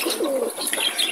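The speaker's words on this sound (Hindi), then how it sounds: "कबूतरों को भी मैं आपको दिखा देता हूँ" Several pigeons cooing softly close by, their low throaty calls overlapping with a few light chirps.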